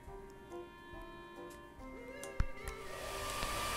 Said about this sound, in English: Let's try the hairdryer.